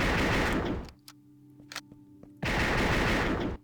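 Automatic gunfire in the first-person shooter Assault Cube, two loud sustained bursts of rapid shots separated by a quieter gap with faint game clicks.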